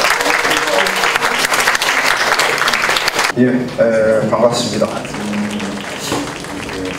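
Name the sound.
audience applause welcoming the speaker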